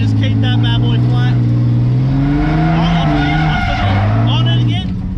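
A drift car's engine is held flat at full throttle with sustained high revs and squealing tyres, loud and close, while people shout and talk over it.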